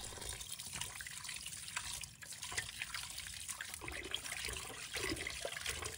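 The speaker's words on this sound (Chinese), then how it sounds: "抓揉结束，放在流动水下，把它仔细淘洗。" Pork ribs rinsed under a running kitchen tap, a steady close wash of flowing water with splashing and sloshing as the meat is moved about in the sink.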